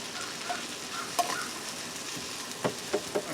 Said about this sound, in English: Look how these onions are going, look at this.